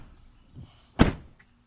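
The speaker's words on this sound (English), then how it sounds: "Let's close these doors." A door on a muddy truck being detailed shuts with a single solid thud, close by, over a faint steady insect-like whine.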